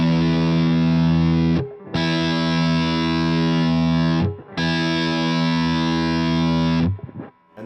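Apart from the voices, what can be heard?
electric guitar tone through amplifier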